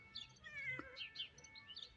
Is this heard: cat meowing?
yes